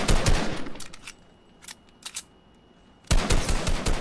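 Automatic gunfire in Fortnite rattles loudly as a player shoots down a structure: a sharp opening burst, short scattered volleys through a quieter middle stretch, then another sustained loud burst at the end.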